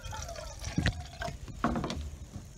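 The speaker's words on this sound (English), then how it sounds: "I like to put a little bit of water in there to start off." Water poured into a container to start an all-natural oil mixture used for tree care, a few short splashing pours and trickles with gaps between, close and moderately quiet.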